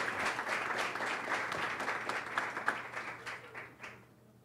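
A small audience at a dance and theatre dialogue event claps to welcome a guest, moderate applause with scattered individual claps that thins out and fades near the end.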